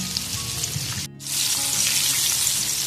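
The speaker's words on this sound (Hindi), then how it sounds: "पॉपकॉर्न हमारे फ्राई हो रहे हैं" Chicken popcorn frying in hot oil in a pan gives a steady, close sizzle, broken by a brief drop near the middle before the sizzle returns fuller.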